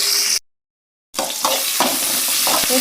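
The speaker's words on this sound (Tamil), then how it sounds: "சின்ன வெங்காயம் நல்லா வதங்கட்டும்" Small shallots with fenugreek seeds sizzle loudly in hot oil for a Tamil kola fish curry. The crackling frying drops to silence for a moment, then resumes with stirring.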